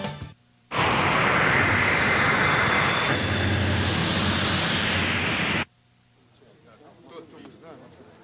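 MiG-29 jet fighters of the Swifts aerobatic team roar past in a loud, broadband jet rush that swells and holds for about five seconds before cutting off, leaving faint background sounds.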